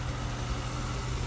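A car engine idles steadily up close, a continuous low rumble with faint vibration and no variation in pace.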